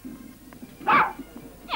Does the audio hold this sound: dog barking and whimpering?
yes